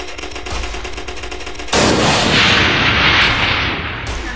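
Rapid gunfire in a Roblox first-person shooter, a steady stream of shots that swells into a dense, loud, continuous burst of automatic fire, with no talk.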